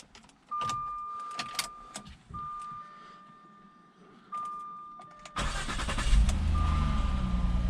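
A 2003 Jaguar X-Type engine starts and settles into a running idle, close by, preceded by several chimes and beeps from the car's dash.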